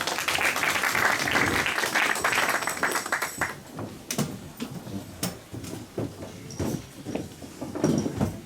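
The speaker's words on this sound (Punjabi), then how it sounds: "ਤਾੜੀਆਂ ਨਾਲ ਸਵਾਗਤ ਕਰਾਂਗੇ।" A church congregation at a Christmas Eve meeting breaks into dense applause that thins after a few seconds into scattered, separate claps.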